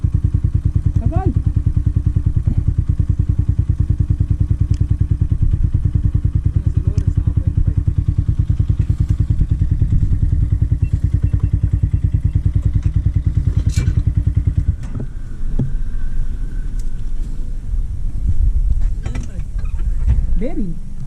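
A motorcycle engine idles and runs steadily up close with a strong low throbbing hum, then drops to a rougher, quieter putter partway through, with clattering mechanical sounds and people talking nearby.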